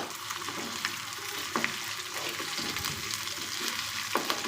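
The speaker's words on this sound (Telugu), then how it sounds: "అలా వేసుకొని అది కొంచెం మాడకుండా జస్ట్ అలా అలా కలుపుతూ ఉండాలన్నమాట" Ginger garlic paste sizzles and fries steadily in a pan while being stirred, with occasional scrapes and clicks of the spoon over a continuous hiss, close by and with no talking.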